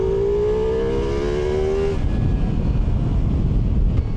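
A 2025 Ducati Multistrada V4 Pikes Peak motorcycle engine runs loud and close, a steady tone sliding slightly upward before breaking into a rough, churning roar that holds to the end.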